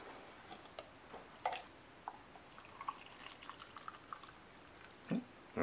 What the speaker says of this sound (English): So now I'm going to pour off the stock from underneath it into